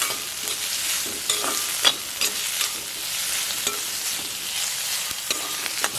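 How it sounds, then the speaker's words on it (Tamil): Green chillies, curry leaves and onion sautéing in a pan for a Jaffna-style ash gourd curry produce a bright, steady sizzle, with frequent quick stirring scrapes and taps close up and no talking. "பச்சை மிளகாய், கருவேப்பிலை வதக்குவோம். வெங்காயம் வதக்கட்டும்."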